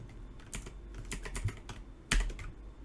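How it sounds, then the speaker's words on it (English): Typing on a computer keyboard produces a burst of quick clicking keystrokes, irregular and close, with one louder heavier key press near the end; no speech. "we're gonna type in lumetri"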